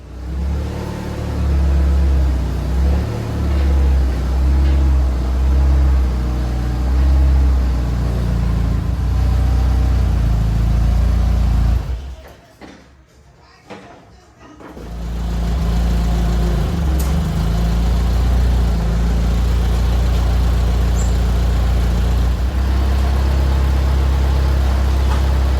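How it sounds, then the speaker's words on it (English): A forklift engine runs steadily with a deep low rumble and some revving, in a workshop where a car engine is being pulled. It drops away briefly midway, then returns and carries on at a constant idle. "Let's grab the forklift and get this engine out of here."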